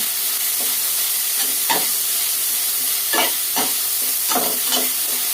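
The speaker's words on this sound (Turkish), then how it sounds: "Başlıyoruz kavurmaya." Onion, pepper and garlic sizzle steadily in a hot pan, with several scraping stirs of a utensil breaking through the constant frying hiss.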